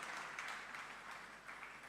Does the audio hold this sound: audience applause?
yes